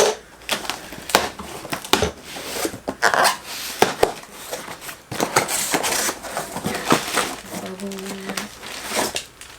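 Heavy-duty packing tape is torn and peeled off a Sony a6400 camera box in a run of sharp, crackling rips and crinkles, close and irregular, with a person's voice briefly underneath.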